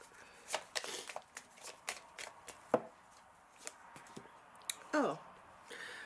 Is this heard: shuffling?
yes